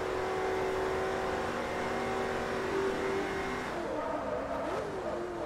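A race car in the Forza Motorsport 3 video game accelerates with a steady, droning engine note that climbs in pitch and then shifts, heard alone at moderate level.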